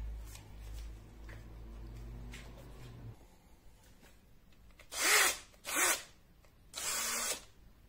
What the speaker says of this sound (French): On va mettre ça sur une petite perceuse, vitesse minimum, on est réglé au numéro 1.